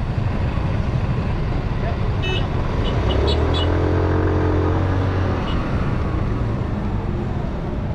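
A Kawasaki Brusky 125 motorcycle engine drones steadily through a test ride, with wind rush over it and a passing vehicle or horn-like tone rising and fading midway; someone talks over the engine.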